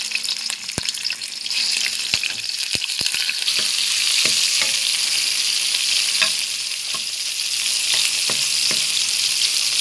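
Shrimp stir-fried with snow peas and garlic in a hot pan gives a loud, steady sizzle and hiss throughout, broken by sharp scraping clicks of a utensil stirring against the pan.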